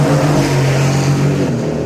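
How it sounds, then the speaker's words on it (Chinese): An F1 safety car lapping the race track, its engine a steady, loud drone held close for a short stretch with no voices. "这个时候刚好碰上了 F1 的安全车在巡视赛道"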